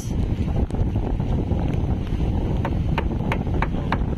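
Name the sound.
strong typhoon wind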